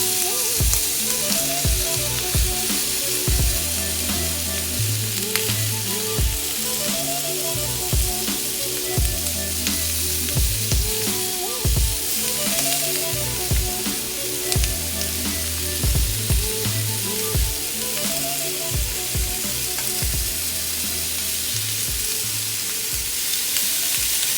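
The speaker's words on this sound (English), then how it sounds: "put grill marks on the top and we're gonna put grill marks on the bottom" Lamb sizzling on a hot grill pan, a loud, continuous crackling fry that runs unbroken throughout with scattered pops and no voices.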